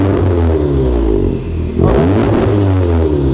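An Audi S3 8V engine revs loud and close, its throaty 3.5-inch valved performance exhaust rising and dipping briefly before surging again, with no talking.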